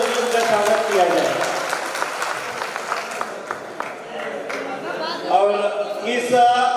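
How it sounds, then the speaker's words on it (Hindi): Audience applause at a radio listeners' conference in Buldhana, steady dense clapping from a large crowd that swells again toward the end, with a voice speaking over it. "एक बार जोरदार तालियों से उनका स्वागत किया जाए।"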